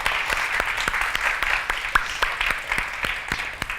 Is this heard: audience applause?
yes